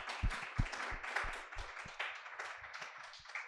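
Audience applause for the panel at a live debate on disability sport participation in England, a soft, distant round of many hands clapping, with a few sharper individual claps near the front.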